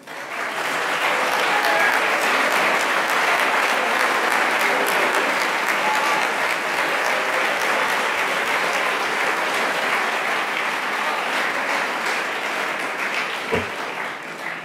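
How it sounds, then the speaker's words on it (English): An awards convocation audience gives a long, steady round of applause for student cast and crew members, a loud uniform wash of clapping from a large crowd that holds for the whole stretch, with a single thump near the end. "give you a round of applause"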